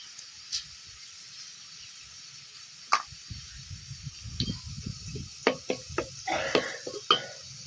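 Cumin seeds tipped into roasted onions in a pan, landing with scattered light crackles and scraping clatters that grow busier toward the end.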